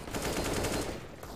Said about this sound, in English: Boros nicely done with the AK, 3 kills in the round already.